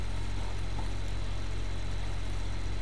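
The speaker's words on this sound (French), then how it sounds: "Je vais juste aller éteindre ce tracteur-ci." A tractor engine idles in the Farming Simulator 15 video game, a steady low rumble that stays constant and fairly loud with no talk over it.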